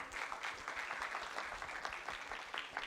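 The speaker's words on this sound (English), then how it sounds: "Let's give applause for both group." A crowd applauds debate groups at the close of their arguments, steady mid-level clapping that holds evenly throughout without talk.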